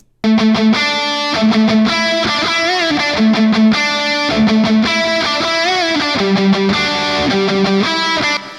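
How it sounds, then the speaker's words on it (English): A loud, dry electric lead guitar riff plays a repeating melodic phrase with bends, clear and unadorned. "a lead guitar riff. Take a listen to what this sounds like without any processing whatsoever"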